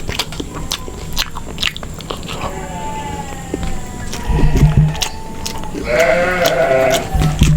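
Someone chews boiled carp served with rice and raw vegetables, with close, wet, rhythmic biting and mastication sounds that go on throughout and grow louder toward the end.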